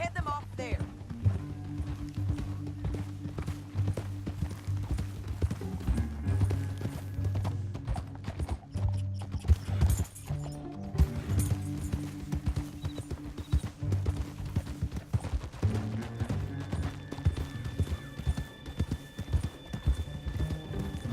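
Rhythmic clip-clop of horse hooves trotting steadily in the video game Red Dead Redemption 2, with an occasional whinny and some talk mixed in alongside.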